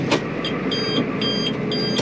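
Three steady high-pitched reversing beeps from a vehicle, evenly spaced, over a low engine rumble and background noise.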